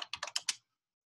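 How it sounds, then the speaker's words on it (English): A quick burst of about five crisp computer keyboard keystrokes, close and distinct, followed by silence. "let me just type in"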